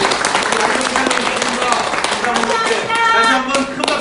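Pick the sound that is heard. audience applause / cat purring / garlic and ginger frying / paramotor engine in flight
audience applause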